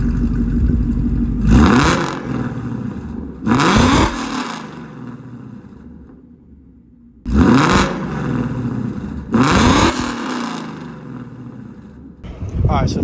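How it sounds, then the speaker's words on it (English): A loud Ford Mustang GT exhaust with a Borla setup revs hard in four sharp bursts, each climbing and dropping back to a rumbling idle between them. "that's what this car sounds like revving"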